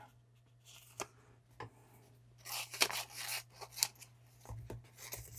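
Scissors cut roughly around a stamped sticky note, giving faint close snips and papery rustling in irregular bursts, with a louder stretch of rough cutting midway and quiet pauses between.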